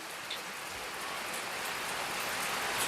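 Steady rain falls outdoors with an even hiss of drops on surfaces, gradually growing a little louder, with no voices.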